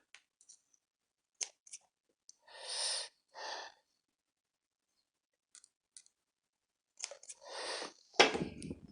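Scissors snipping cotton wick for an Intrepid RTA vape coil, a few quick separate cuts with breathy pauses between them, close and fairly quiet, ending in a louder rustle.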